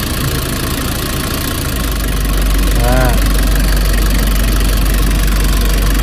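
A car engine idles steadily with the idle-up engaged and the air conditioning running, a low constant hum that rises slightly in level partway through, with a brief tonal chirp and people talking nearby.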